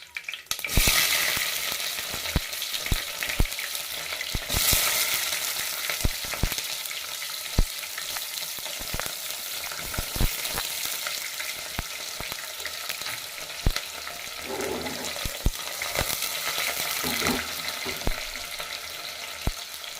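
Curry leaves and onion fry in oil for vegetable sambar, a constant crackling sizzle broken by frequent clatters and scrapes of a spoon stirring against the pan.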